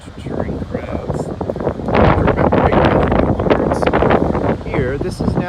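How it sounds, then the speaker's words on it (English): Gusty wind buffets the microphone in uneven bursts on a beach in Sydney, with the chatter of people in the background underneath. "So it's windy out here on the beach today, as you can see by the waves."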